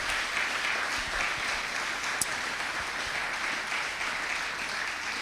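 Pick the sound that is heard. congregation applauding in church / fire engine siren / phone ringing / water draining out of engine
congregation applauding in church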